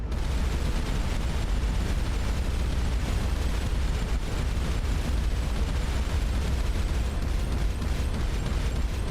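Spaceship weapons in Starcom: Unknown Space firing in a sustained stream, a dense continuous barrage of bursts and rumbling blasts at steady loudness with no pauses.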